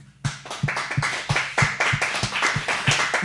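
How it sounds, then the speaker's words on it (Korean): A Korean church congregation claps in thanks at a Sunday worship service, steady rhythmic claps about three per second, fairly close and even, with a brighter overlapping patter of hands between the beats. "우리 하나님께 감사의 박수 드리겠습니다"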